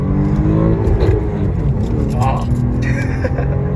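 Manual 2007 Lexus IS 250 accelerating hard in a pull, a loud, steady engine roar with rising whine heard from inside the car, with a brief exclamation over it.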